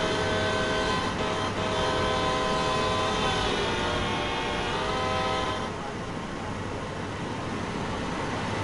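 Video game train passing at high speed, a loud sustained roar with tonal whine that drops away partway through into a lower, steadier rumble.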